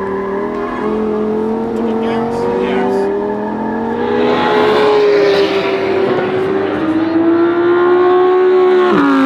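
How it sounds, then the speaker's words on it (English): A BMW E46 M3 driven hard at a track in Las Vegas, a loud engine note rising and falling through the gears with steady revving, ending in a sharp shift. "I'll drive an E46 M3."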